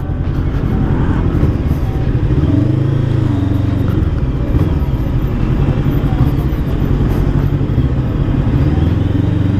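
A Bristol Veloce 500 motorcycle is ridden on a test ride, its engine droning loudly and close, rising and falling in pitch through the gear changes while the wind rushes past.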